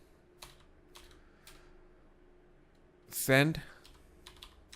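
Computer keyboard keys tapped while entering code, a few scattered quiet clicks in short bursts, then a brief spoken word cuts in near the end before the sparse tapping resumes.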